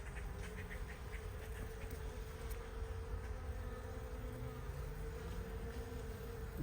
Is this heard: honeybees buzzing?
yes